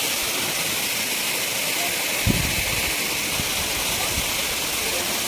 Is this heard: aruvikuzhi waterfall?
yes